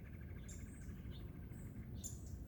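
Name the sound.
bird calling near a fig tree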